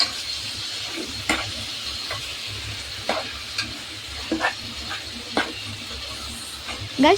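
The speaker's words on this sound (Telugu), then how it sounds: "చికెన్ని బాగా మిక్స్ చేయండి గైస్" Half a kilo of chicken frying with onions sizzles steadily in a pan for a home-style chicken curry, broken by repeated scraping stirs of a spoon against the pan.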